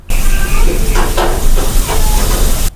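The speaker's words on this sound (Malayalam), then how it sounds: "അരിഞ്ഞു വെച്ച മൂന്ന് സവാളയായത് ഇത് എണ്ണയിലിട്ട് വാട്ടിയെടുക്കാം" Three sliced onions sizzling as they sauté in hot oil in a pan for chicken curry, a loud steady hiss with brief crackling swells, no voices.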